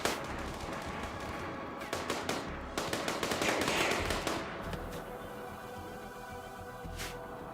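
Rapid bursts of gunfire from a Rimworld battle, crackling shots in quick clusters that thin out toward the end, with sparse later pops.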